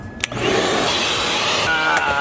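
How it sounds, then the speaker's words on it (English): A vacuum cleaner runs steadily close by, sucking at the interior of a twin-turbo 300ZX project car, its continuous whine and rushing airflow holding level throughout with a couple of brief bumps and clatters. "I'm just gonna go ahead and vacuum it"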